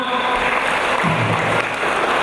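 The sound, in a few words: applause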